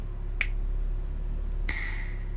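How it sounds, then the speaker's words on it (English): Two crisp finger snaps ring out alone, about a second apart, over a low steady background hum. "When I snap my fingers, you will be gone."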